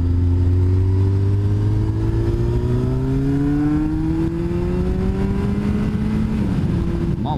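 A Yamaha XJR 1300 motorcycle engine revs up, its low growl rising steadily in pitch through the gears as it accelerates, loud and close, with a brief drop near the end; no talk.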